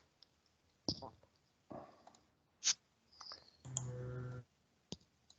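Computer mouse clicks while logging into online payroll software, a few sharp isolated clicks spread out with soft handling noises and a brief rustling burst in between, quiet and close.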